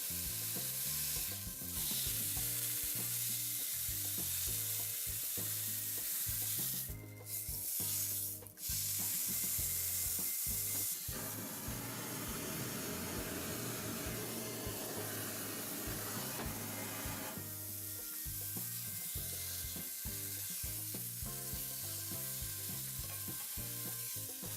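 Beef sizzles loudly and steadily as it sears in a hot pan, with occasional scraping and stirring sounds layered over the continuous crackling hiss.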